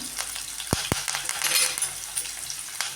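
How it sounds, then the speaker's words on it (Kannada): Onions and curry leaves frying in a pan for potato rice, a steady hiss of sizzling oil broken by a couple of sharp clinks of a utensil, with no talking. "ಸ್ವಲ್ಪ ಮೀಡಿಯಮಾಗಿ ಆಗಿ ಈರುಳ್ಳಿ ಫ್ರೈ ಹಾಕ್ಕೊಳ್ಳಿ"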